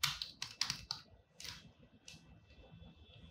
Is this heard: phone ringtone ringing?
no